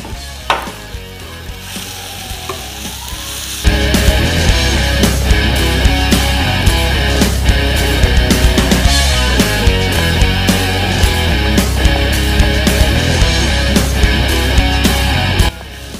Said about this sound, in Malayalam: ഇനി ഇതിലേക്ക് നമ്മുടെ മെയിൻ ഐറ്റമായ പഴുത്ത മാങ്ങ ഇട്ട് കൊടുക്കാം.